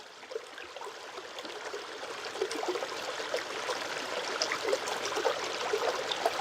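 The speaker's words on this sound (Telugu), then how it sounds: "పారుతున్న జలం చేసే శబ్దాల్ని జాగ్రత్తగా గమనించాలి." A flowing stream burbles and trickles steadily, a soft, even wash of running water with small splashes, moderately close and uninterrupted throughout.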